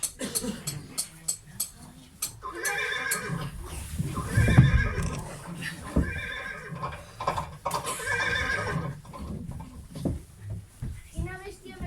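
A horse whinnies and its hooves clip-clop while being held for shoeing at a farrier's stage scene in a Catalan nativity play, with people talking and calling out around it.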